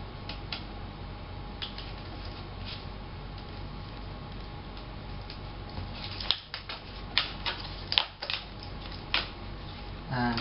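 Corrugated plastic (Coro) winglet and skid parts are cut out by hand. Quiet, scattered ticks give way to a run of sharper crunching snips and cracks near the end.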